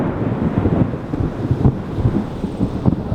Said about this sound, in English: Goodness, you guys hear that thunder?